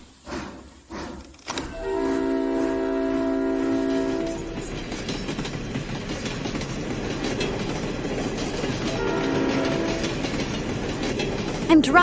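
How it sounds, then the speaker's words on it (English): A steam train gets moving on its rails, a long whistle blast giving way to a loud, rolling mechanical rumble, with a second shorter whistle later. "I'm really driving a train."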